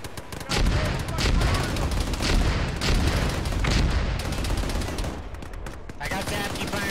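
Dense gunfire during a firebase defense in Arma, rapid overlapping automatic bursts and loud cracks continuing for several seconds, with voices calling out over the shooting.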